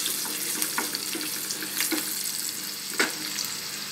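Garlic sizzling in hot oil for a Marathi-style Bombay duck curry, a steady bright frying hiss with occasional louder spits and pops, close and alone.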